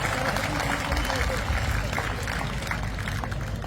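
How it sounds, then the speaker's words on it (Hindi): Loud, busy clapping from a large crowd at a Hindi poetry reception in Barmer, with heavy low rumble and a mix of voices and crowd noise throughout. "आपकी आंखों में थोड़ी लज्जा शेष हो तो एक बार मेरे लिए भी तालियां बजा लीजिए।"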